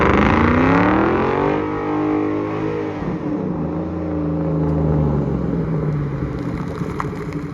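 The engine of a 2003 Ford Mustang Mach 1 with a slipping clutch revs hard and loud during a half power slide onto a street. The pitch climbs, drops and rises again as the exhaust roars close by.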